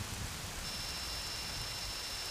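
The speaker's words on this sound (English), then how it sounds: "They're going to hide from the rain, basically, until it passes." Steady rainfall in the video game The Legend of Zelda: Majora's Mask hisses softly and evenly, with a low rumbling undertone and a faint thin tone joining partway through.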